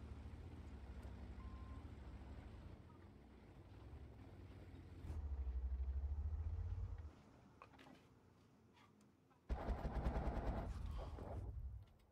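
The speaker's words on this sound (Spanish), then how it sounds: "Ese me gusta como dispara, parece como metralladora andante." Rapid machine-gun-style weapon fire in a video game, bursts of rattling shots over a low rumbling engine-like drone, one louder stretch near the end, without voices.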